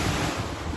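Ocean waves wash onto a beach in a continuous roar of surf, with wind buffeting the microphone loudly throughout.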